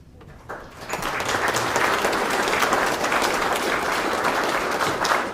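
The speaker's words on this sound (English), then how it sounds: "You know that you're supposed to applaud after I say a piece." Audience applause at an art show after a watercolor piece is announced, a steady burst of many hands clapping that swells quickly and holds at full strength throughout, with no talk over it.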